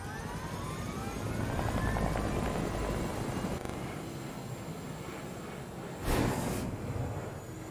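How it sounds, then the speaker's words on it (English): Helicopter rotors in the video game Fortnite drone steadily at mid distance, a continuous whirring engine wash with a brief louder swell near the end; no talking. "Look at my helicopters."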